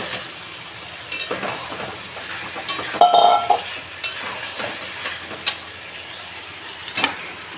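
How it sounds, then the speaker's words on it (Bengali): Chicken pieces going into hot spiced oil in a pan for a Bengali kosha curry, frying with a steady sizzle broken by repeated scrapes and clinks of a stirring spoon against the pot, close and moderately loud with no talking. "এবারে আমি মাংসগুলো দিতে থাকবো।"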